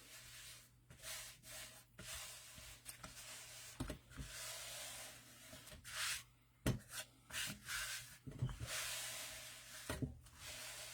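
Hands rub and smooth fabric onto a journal cover in soft, close, repeated brushing strokes of varying length, quiet and without talking.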